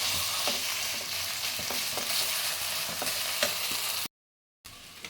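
Amla, Indian gooseberry, stirred in ghee in a pan: a loud, steady sizzle broken by repeated scraping strokes of the spoon, then a brief silent gap before the frying resumes.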